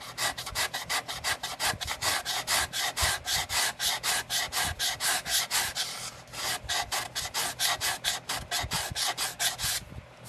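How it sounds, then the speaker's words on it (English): Sandpaper rubs the wooden top of a handmade classical guitar in fast, even back-and-forth strokes, close and loud. The steady rasping rhythm runs throughout, with a short pause near the middle and no talking. "after I sand the top wood,"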